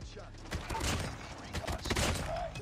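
Rapid bursts of gunfire from an ASM10 assault rifle in Call of Duty Mobile multiplayer, fairly loud and continuous across the clip, mixed with game effects and a faint voice.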